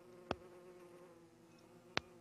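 An angry killer bee in the video game Don't Starve drones with a steady, close, high-pitched buzz, and two sharp clicks land about a second and a half apart.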